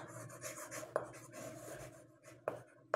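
Pen or pencil writing by hand on paper while working a place-value expansion in a class 5 maths lesson, a soft continuous scratchy rubbing broken by a few sharp taps, close and quiet.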